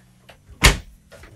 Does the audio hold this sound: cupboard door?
yes